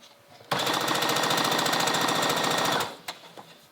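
A sewing machine stitches along the edge of a vest in one continuous, close burst of rapid, even needle hammering lasting about two seconds, then stops, leaving a couple of faint clicks.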